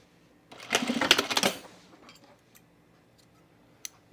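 A sewing machine stitches a men's utility jacket back together after its facing is trimmed, in one brief, rapid, close burst of about a second, then near silence with a single click.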